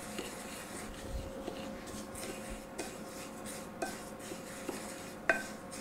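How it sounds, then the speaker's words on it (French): Couscous is mixed with olive oil in a bowl, giving quiet, close scraping and light clinks of a utensil against the dish, with a few sharper taps spaced irregularly. "Je mets d'abord un peu d'huile d'olive dessus. Je mélange."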